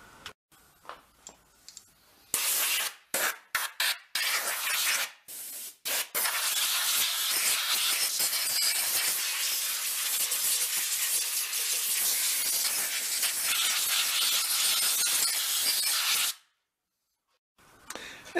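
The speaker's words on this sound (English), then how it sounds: "I'll clean a bunch of this up with a cleaner. Blow out all this crap in that's in here, too." An aerosol cleaner sprays out dirt on an antique sled in a long, steady, close hiss lasting over ten seconds, preceded by a few short bursts and ending abruptly.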